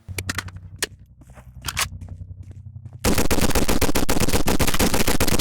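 Gunfire in a Roblox gun game: a few scattered sharp shots at first, then a sustained rapid burst of automatic fire, loud and continuous to the end.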